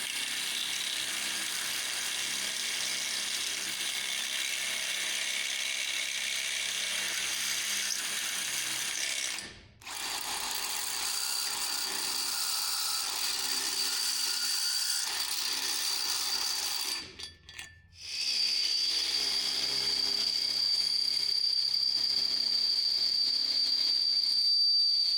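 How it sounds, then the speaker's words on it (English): A drill with a 7/16-inch high-speed steel bit boring through steel on a trailer gives a steady, loud whining grind that runs on and on, broken by two short pauses, with no talking. "drill through this steel, you're gonna wanna use high-speed steel bits"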